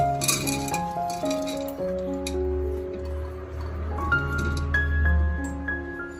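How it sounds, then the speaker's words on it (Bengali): Washed chana dal slides and clatters into a metal pressure cooker for sambar, with small clinks and taps of grains and utensils against the pot over a soft background hum. "এবার এটা আমি প্রেসার কুকারে দিয়ে দিলাম"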